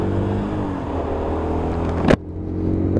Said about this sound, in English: A lot of bikes going through again.